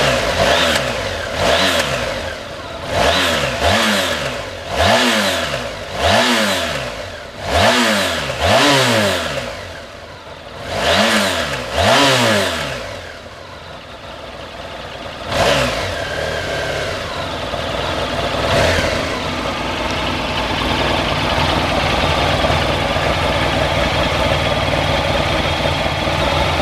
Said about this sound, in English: we'll just give the throttle a blip so you can hear what that exhaust sounds like